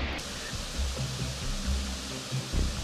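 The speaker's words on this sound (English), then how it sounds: "Milla Falls is one of the many beautiful waterfalls in the lush Atherton tablelands." Millaa Millaa Falls, a waterfall in the lush Atherton Tablelands rainforest, gives a constant broadband rushing roar of falling water, steady and fairly loud with slight low surges and no voices.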